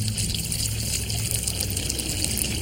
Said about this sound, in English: Now, slowly pour a pitcher of water over the top.